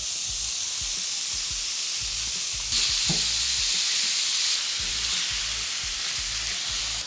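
Lean minced beef sizzles steadily in a hot pan with chili powder, salt and black pepper, a continuous hiss broken by scraping stirs and a louder burst midway, with no talking.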